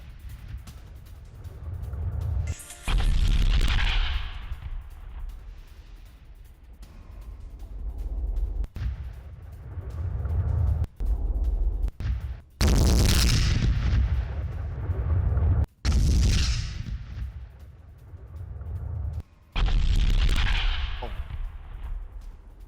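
Artillery fire and blasts from a Russian missile attack on Kherson, a series of heavy booming explosions each followed by a long rumbling decay, loud and roughly spaced several seconds apart, with no talk.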